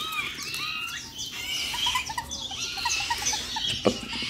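Dense, busy calling of barbet chicks with repeated short chirps and squeaky notes, fairly close, over a noisy outdoor background.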